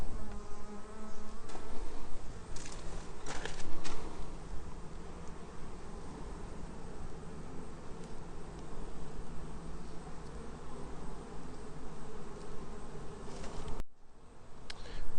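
Honeybees in a Langstroth pallet hive keep up a continuous close buzzing drone that is soft but steady, with occasional louder passes of individual bees near the hive.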